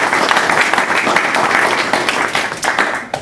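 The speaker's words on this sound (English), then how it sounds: "I'll give Mary another round of applause" An audience at a physicians' emeritus luncheon applauds, with dense, steady clapping from a room full of people that fades toward the end.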